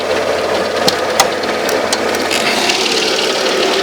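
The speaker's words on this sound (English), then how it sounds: "here's a V6 engine, 170 horsepower, and it's a really strong car" A 1997 Mercedes-Benz W202 C240 with a 170-horsepower V6 engine idles steadily with the hood open, a loud, close, even running hum with a few faint ticks and clicks over it.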